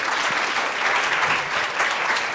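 Audience applause at a conference session, a steady dense wash of clapping from a crowd heard alone and close throughout.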